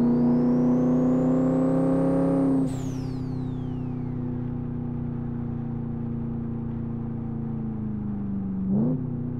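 Turbocharged Ford Landau 5.0 V8 in the Live for Speed racing game, revving up to a high strained note, then dropping sharply after a shift and holding a long, steady, slowly falling drone, with a brief blip near the end.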